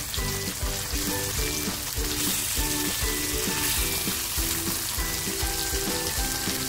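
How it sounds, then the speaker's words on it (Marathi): Silver bar fish coated in spicy masala fries in a pan, giving a steady, loud oil sizzle with dense popping crackles throughout and no talking. "आपली मच्छी आहे ना एक बाजूने अशी छान फ्राय झाली आहे।"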